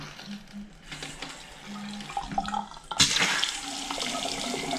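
A bathroom vanity faucet turned fully open on both hot and cold, with water running and splashing steadily, first sputtering with air and then bursting into a louder, fuller gush.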